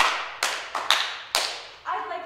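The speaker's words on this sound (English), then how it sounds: "when I clap this rhythm" A music teacher claps a short rhythm with bare hands in a classroom, five sharp, close claps in an uneven pattern, followed by a brief voice at the end.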